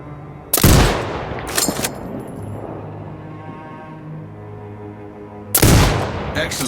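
Loud sniper rifle shots in Sniper Ghost Warrior Contracts 2, with two sharp blasts early and another near the end, each trailing into echoing ambience between them.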